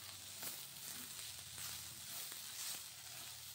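Moong dal with turmeric and salt frying in a pan gives off a soft, steady sizzle with a few light stirring scrapes, fairly quiet and close, with no talking.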